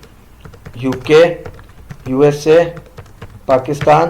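Keys clatter on a computer keyboard as country names are typed into a Microsoft Excel sheet, scattered soft clicks running beneath a man's close, steady talking.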